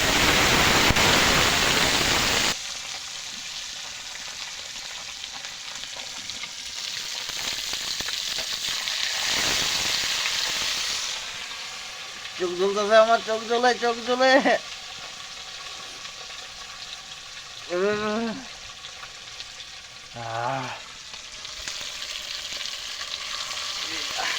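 Fish fries in oil with a loud, continuous close sizzle that swells and settles, while someone speaks over it in short bursts.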